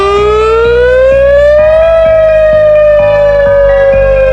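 A WS2000R civil defense siren wails loudly and steadily, its piercing tone rising in pitch and then holding high with a slight waver, overwhelming and continuous throughout.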